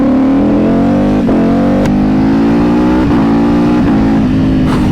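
Ducati motorcycle engine and exhaust holding a loud, steady high idle close by, with small throttle blips and a few brief clicks, no talking.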